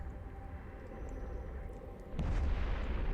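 A sentry tower blows up in the space game EVE Online, a muffled, rumbling blast that swells suddenly partway through over a steady low drone, sounding distant and heavy rather than sharp.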